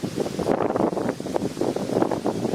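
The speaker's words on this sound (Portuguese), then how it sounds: "Tá muito vento, tá no sol também" Wind buffets a microphone outdoors on a sunny, very windy coast, a steady loud rumbling roar with gusty surges and no talk.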